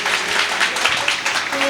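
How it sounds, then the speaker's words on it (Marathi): A village audience at a religious katha gathering claps steadily and loudly, a dense, even wash of applause close by with a few voices mixed in. "एकदा जोरदार टाळी वाजवा."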